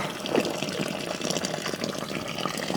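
Sparge water pours steadily into a mash tun during homebrewing of beer, a continuous close splashing gush without pause.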